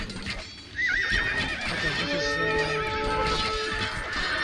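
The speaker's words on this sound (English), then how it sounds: "Wild horses. Oh, they look nice." Wild horses in the video game Age of Empires II Definitive Edition neigh with a loud warbling whinny and trot with clip-clop hooves, while someone speaks briefly over the game sounds.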